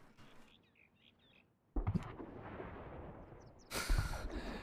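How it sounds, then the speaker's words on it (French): Fireworks launched by a ship crew in the pirate game Sea of Thieves: two loud, sharp booming bursts a couple of seconds apart, each followed by a sustained crackling rumble, after a quiet stretch with faint bird-like chirps. "Ils envoient des feux d'artifice."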